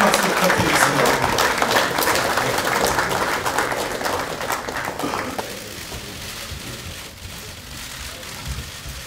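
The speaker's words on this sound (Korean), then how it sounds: "큰 박수 부탁드립니다." A crowd gives sustained applause as a presidential candidate enters a press conference, loud and dense at first, then thinning and fading over the last few seconds.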